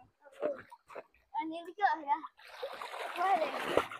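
Water splashes as hair is rinsed after applying a herbal hair wash, a broad splattering burst following close talk.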